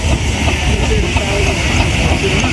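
Steam traction engine at a show, rescued from a scrapyard and restored, giving off a loud, continuous hiss with a steady rumbling underneath.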